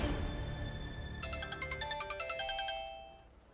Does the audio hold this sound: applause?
no